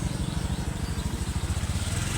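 A motorcycle carries riders along, its engine loud and close with a rapid, pulsing putter that stays steady through the short stretch.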